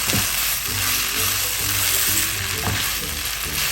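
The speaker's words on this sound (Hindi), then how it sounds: "इसको अच्छी तरह से मिक्स करें ताकि सारे स्पाइसेस सब कुछ कंबाइन हो जाए।" Spiced boiled potato mixture stirred in a hot pan, a continuous bright sizzle with scraping strokes of a spoon against the pan recurring throughout, close and fairly loud with no voices.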